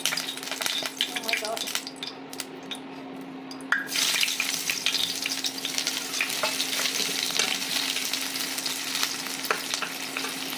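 Chopped onions frying in hot oil with a tengra fish dish: a quieter stretch, then a sudden loud burst of sizzling and crackling that stays dense and close, over a steady low hum.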